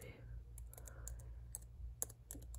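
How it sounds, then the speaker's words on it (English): Irregular key clicks from slow typing on a foldable Bluetooth keyboard, some taps isolated and others in quick pairs, close and fairly quiet over a low background hum. "I'm typing slow, guys."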